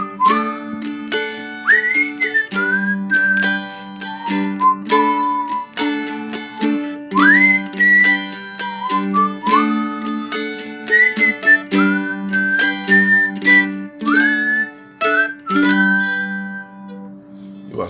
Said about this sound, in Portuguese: Eu assobiei junto e fiz a harmonia com várias notas.